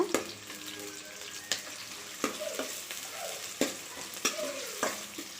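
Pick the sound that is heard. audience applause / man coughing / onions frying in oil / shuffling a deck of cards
onions frying in oil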